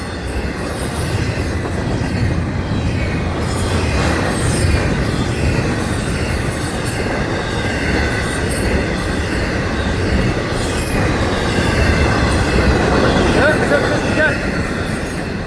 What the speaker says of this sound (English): Whoa, it's a big train.